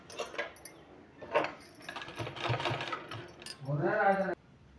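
A sewing machine stitches a fabric sleeve, a short whirring run near the end after some scattered clicks and handling noises, with a voice faintly present.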